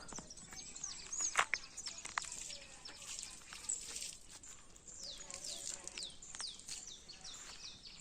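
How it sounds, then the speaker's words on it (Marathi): Birds chirp and call on a quiet morning in a village near Mandangad in rural Konkan, with faint, repeated tweets scattered over a soft outdoor background and occasional light movement sounds. "आपल्या सकाळचं पक्ष्यांचा आवाज बघा"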